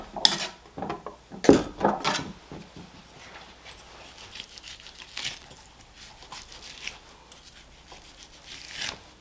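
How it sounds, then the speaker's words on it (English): A knife cuts and peels the tough bone skin from a whole top sirloin, making scattered close slicing, tearing and scraping sounds. A louder burst comes early, then quieter irregular strokes follow, with no talking. "Peel off all that bone skin."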